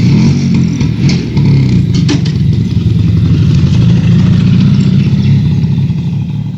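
A scooter engine runs steadily at close range, a low continuous motor drone with a brief pause in intensity early on, no voices over it.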